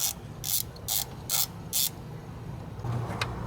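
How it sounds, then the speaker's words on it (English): A ratchet socket wrench loosens stubborn nuts from bolts while an E.G.R. pressure feedback sensor is replaced on a 1997 Ford, giving five close, sharp clicking bursts in an even rhythm before the work goes quiet. "They don't want to come off easy, so you're going to have to use the socket the whole time."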